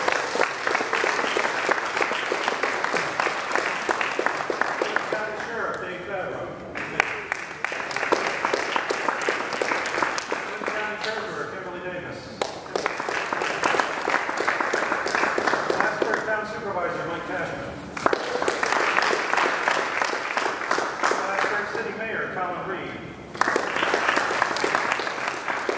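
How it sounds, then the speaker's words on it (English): An indoor audience at an airline arrival event in Plattsburgh applauds county legislators in several sustained bursts of dense clapping, with brief pauses between them. "Give them a round of applause for this."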